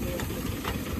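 A motorcycle engine with a jammed piston runs in a rough, steady drone with an uneven knocking texture, close and continuous, and no voices.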